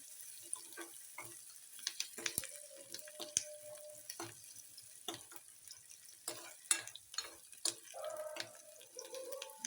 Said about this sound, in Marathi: छान भाजून घेऊयात कांदा